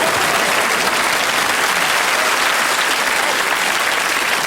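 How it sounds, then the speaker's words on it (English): Studio audience applause on a television comedy panel show, dense steady clapping filling the room at full volume for the whole stretch, with no talking over it. "Big round of applause for them."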